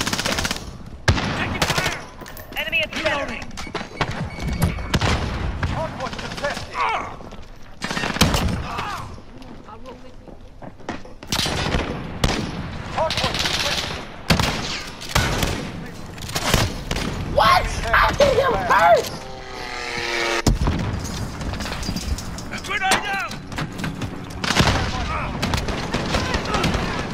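Call of Duty Warzone gunfire in a multiplayer hardpoint match, loud bursts of automatic weapon fire and sharp single shots cracking in rapid succession alongside game effects and occasional voices, dense and continuous throughout.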